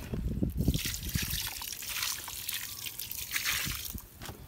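Water trickles and splashes onto garden soil in a planting bed, a close, continuous pour with uneven gurgling and dribbling, fading slightly toward the end.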